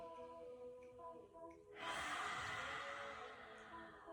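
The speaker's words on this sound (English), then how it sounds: "breathing in through the nose and out of the mouth," A forceful open-mouthed exhale of yoga lion's breath during a vinyasa flow, a loud breathy rush that follows a quieter inhale and fades slowly, close and alone.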